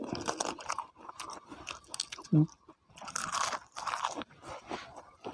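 Crisp crunchy bites while eating alongside hot noodle soup, several sharp crunches breaking through close, fairly loud chewing and slurping, with talk in between.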